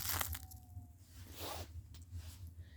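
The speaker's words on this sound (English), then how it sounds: "Did you hear how crunchy that was? It's because of the frost." Footsteps crunch over frost-covered ground on a cold October morning, one soft crushing step standing out above a low steady outdoor hum.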